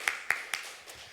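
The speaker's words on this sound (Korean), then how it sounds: "박수 한번 쳐주세요." Applause from a church congregation at a Sunday service, a few distinct close claps in a slow uneven rhythm that quickly fade.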